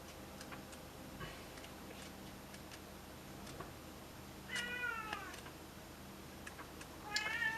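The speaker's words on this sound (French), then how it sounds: "j'ai mon chat qui chante" A pet cat meows several times, drawn-out and wavering cries that come and go, with the loudest bursts near the end, fairly close in a quiet room with a clock ticking faintly in the background.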